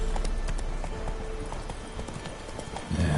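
Horse hooves clip-clopping in a steady rhythm in The Witcher 3 video game, close and fairly loud, with a brief louder thump near the end.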